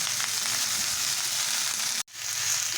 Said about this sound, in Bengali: সবজিটাকে আমি সুন্দর করে ভেজে নিয়েছি